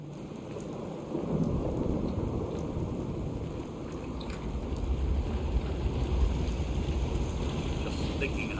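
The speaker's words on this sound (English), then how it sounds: "Just thinking how wonderful it would be to get out of this infernal rain" Rain and thunder in the Fallout 4 video game: dense, steady rainfall hiss with low thunder rumbling that builds louder toward the end, no talk.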